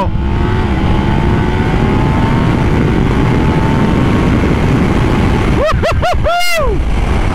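A Yamaha MT10 motorcycle being ridden makes a loud, continuous engine roar under heavy wind noise, with rising whines as it accelerates. Near the end comes a burst of sharp, quickly rising and falling revs.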